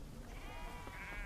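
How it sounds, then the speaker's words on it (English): Sheep bleating in a herd grazing knapweed on open ranch land, several overlapping harmonic calls rising over a steady low rumble, fairly faint and distant. "A hired hand moves this herd across hundreds of acres of ranch land, because sheep are happy to mow down knapweed"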